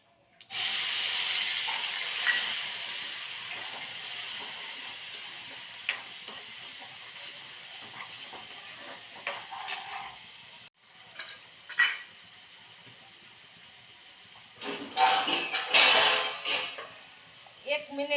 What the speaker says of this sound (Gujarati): હાલો એનો વઘાર કરીએ હવે